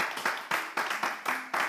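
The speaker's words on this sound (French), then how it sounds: "j'aimerais juste qu'on applaudisse l'orchestre qui va faire cette émission" An audience claps in a quick, even rhythm for an orchestra on a French television show, about six to seven bursts of applause in under two seconds.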